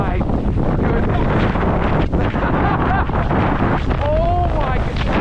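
Strong wind buffets a microphone on a mountain bike trail in rainy Southern California. The roar is loud and unbroken for the whole clip, with faint voices partly buried beneath it.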